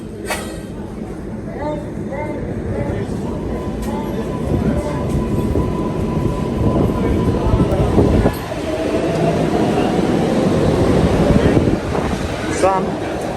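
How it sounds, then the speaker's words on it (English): A New York City subway train rumbles through Grand Central station, a loud continuous roar of rail cars with squealing wheels and a rising clatter, with brief speech over the din. "This is 47 Grand Central, most famous train station on the planet."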